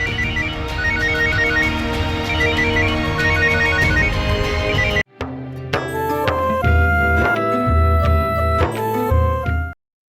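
A mobile phone plays its ringtone, a loud looping electronic melody that cuts off sharply midway and gives way to a different tune, with no voices.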